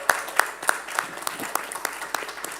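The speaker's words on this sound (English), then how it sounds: "Oh, please make that clap louder. Make that clap louder." Church audience clapping to welcome a speaker, a moderate, slightly uneven rhythm of distinct sharp claps, roughly three per second, standing out over a quiet room.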